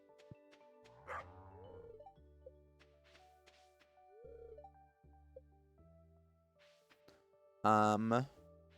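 A farm dog in Stardew Valley gives a few short, clear barks spaced out over soft game music, then one louder bark near the end.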